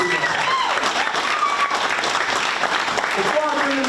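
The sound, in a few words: audience applause at a graduation ceremony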